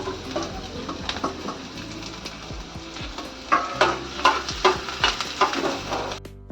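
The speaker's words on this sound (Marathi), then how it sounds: "आणि हे कांदा आहे तो त्याच्यामध्ये आता थोडासा असं फ्राय करून घेते." Chopped onion fries in one to one and a half spoons of oil in a pan, a close sizzle with bursts of stirring and scraping, getting more active toward the end and then cutting off.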